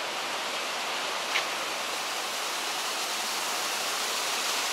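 Small river flowing into the sea at a Bulgarian seaside resort near St. Vlas on a windy day, a steady broadband rush of water, constant and fairly close with no voices.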